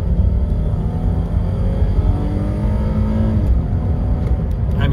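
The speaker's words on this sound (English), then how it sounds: "I want to show you how fast it downshifts. So we're slowing down. I'm gonna floor it." A Lexus GS 350 downshifting and accelerating at full throttle, heard from inside as a steady, loud engine roar with rising drone, continuous and without speech.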